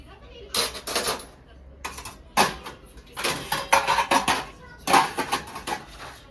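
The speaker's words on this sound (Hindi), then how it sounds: "बर्तन को धीमे धीमे से रख रही हैं" Metal utensils and dishes set down slowly one after another, a series of clinks and clatters in separate bursts, fairly close, with faint background voices.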